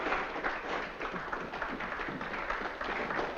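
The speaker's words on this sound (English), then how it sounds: "Does the applause warrant an encore?" Applause from a theatre audience at a variety show, a steady faint patter of many hands clapping continuously, heard from a distance.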